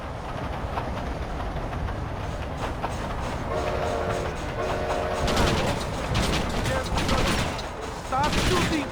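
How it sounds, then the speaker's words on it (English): Rapid gunfire rattles in the Red Dead Redemption video game over the steady rumble and clatter of a moving train, with bursts of shots growing denser toward the end. "Stop shooting!"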